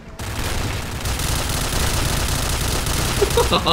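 Bursts of automatic rifle fire from an HK417 in the shooting game Point Blank keep up almost without a break, loud and dense, over a faint voice.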